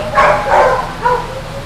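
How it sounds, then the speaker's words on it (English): Dogs at a county animal shelter bark in a close, loud burst of several quick barks and yips. "So right here on the front row would be our adoptable dogs."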